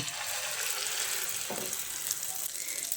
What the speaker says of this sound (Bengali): এবার তেলটা ভালোভাবে গরম হয়ে এলে যে ডিম আর আলুটা মেখে রেখেছিলাম সেটা আমি এর মধ্যে দিয়ে দিচ্ছি।